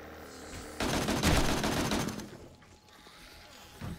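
AK rifle fired in the zombie survival game 7 Days to Die, a loud rapid burst of automatic gunfire lasting over a second, then trailing echoes and a lone later shot.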